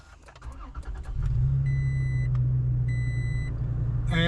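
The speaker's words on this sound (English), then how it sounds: "Start the truck." A truck engine cranks and catches, settling into a steady low idle, with soft clicks before the start and two electronic chimes sounding over the running engine.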